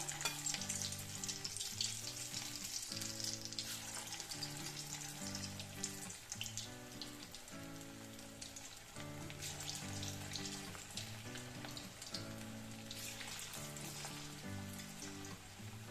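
Small pieces of fish popcorn fry in hot oil, a continuous dense crackling sizzle running throughout at a fairly quiet level, with a low steady hum underneath.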